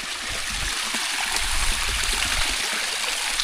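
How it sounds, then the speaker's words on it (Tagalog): Strong water flowing down below in a rural spot, a steady, dense rush with gurgling that runs without pause, close and loud, with no voices over it. "Lakas tubig dito sa baba ba."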